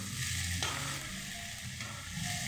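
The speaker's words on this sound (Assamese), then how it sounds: "তাৰপিছত বিলাহী আলু ফ্ৰাই হ'বলৈ দি দিছোঁ" Tomatoes and potatoes fry in heated oil, making a soft, steady sizzle with a few scraping stirs, quiet and close.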